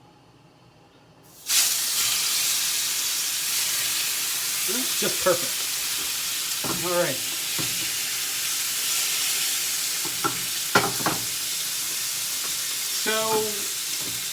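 Food sizzling in a small frying pan, a steady broadband hiss running throughout after starting abruptly, with a person talking briefly over it now and then.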